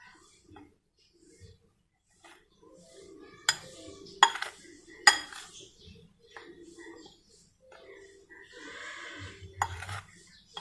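Tikka masala spices are mixed with red food coloring in a bowl: a few sharp clinks and scrapes of a spoon come between long quiet gaps, with someone talking intermittently.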